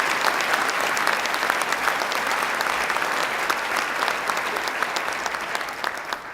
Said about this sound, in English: We could give him a round of applause.